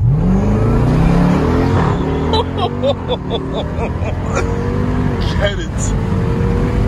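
A 2018 Jeep Trackhawk with 707 hp revs hard and then launches on launch control, its engine rising in a loud climbing roar close by, with excited voices talking over it.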